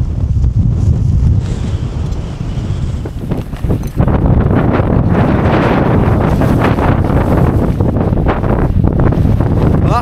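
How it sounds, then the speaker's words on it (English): Strong gale from Storm Lilian battering a tent at a wild mountain camp, loud continuous roaring wind and microphone buffeting that surges harder partway through, with flapping fabric. "this is strong winds, trust me on that. It's absolutely blowing a hoolie."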